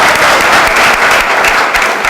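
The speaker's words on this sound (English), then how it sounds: "please, again, a big applause" Loud, dense audience applause at a Bhakti-vriksha convention, a close, continuous burst of many hands clapping with no break.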